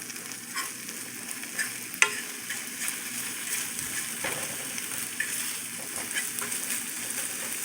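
Eggs with cheese frying in a pan, a steady close sizzle and crackle running throughout with a sharp pop or utensil tap partway through.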